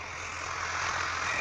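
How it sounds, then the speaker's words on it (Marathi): A tractor works a lower farm field with a rotavator, its engine giving a steady, fairly quiet drone with a constant hiss and no break. "चला भाऊ, आता ट्रॅक्टर पण आलंय"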